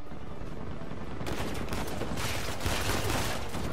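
Sustained rapid gunfire from a firefight in the video game Uncharted 4, a continuous dense crackle of shots that grows louder and busier partway through.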